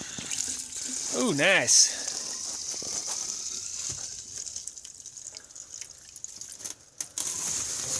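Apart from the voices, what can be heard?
gasoline splashing and dripping on a snowmobile engine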